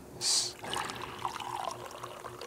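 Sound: liquid potion poured into a glass

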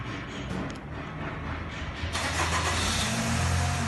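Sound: 2012 Chevrolet Captiva engine remote start

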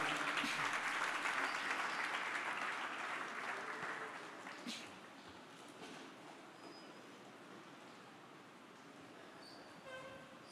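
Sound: audience applause in church

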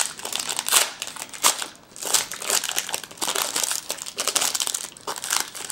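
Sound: unwrapping crinkly foil baseball card pack wrapper

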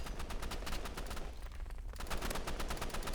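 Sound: gunfire in the video game Roblox Rivals

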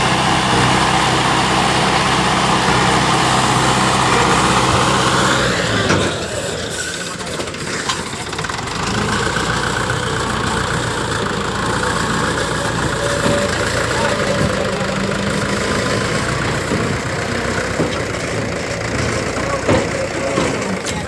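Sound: tractor engine idling while being unloaded

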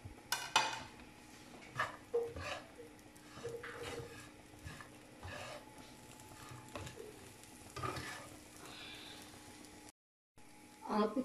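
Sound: stirring and mixing paratha filling in a bowl

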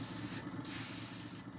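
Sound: spraying layers of colored liquid onto concrete

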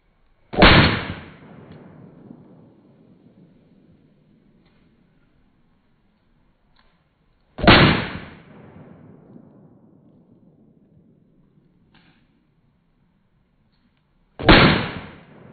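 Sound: gunshots from a 10 millimeter pistol with compensator

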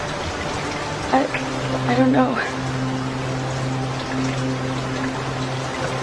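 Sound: rain falling outdoors

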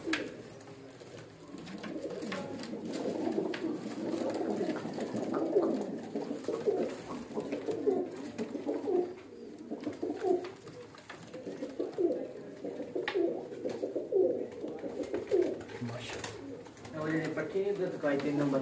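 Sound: breeder pigeons cooing

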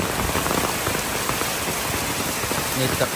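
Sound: heavy rainwater pouring down from above

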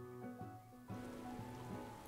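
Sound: rain in the video game Final Fantasy XIV

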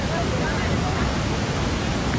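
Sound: waterfall

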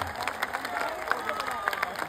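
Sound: crowd clapping

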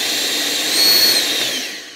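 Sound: battery-powered CAT 800 CFM leaf blower running

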